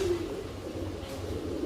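A pigeon or dove coos nearby, a soft low throaty call that rises and falls over steady background noise.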